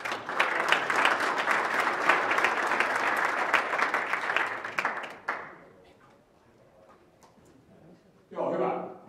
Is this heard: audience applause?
yes